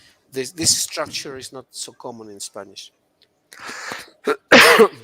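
A person talks, then after a brief pause a sharp, loud sneeze bursts out near the end, close to the microphone.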